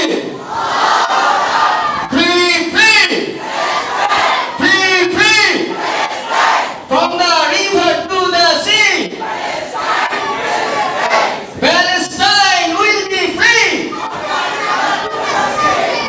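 A crowd at a Palestine solidarity poetry gathering bellows the takbir battle cry in unison, repeated loud chanted shouts in rhythmic waves, with a lead voice calling between the responses.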